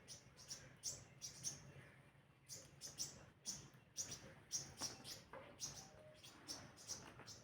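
Small birds in trees on a morning give repeated high, thin chirps at a steady, quick rhythm over quiet background hiss, fairly faint and somewhat distant.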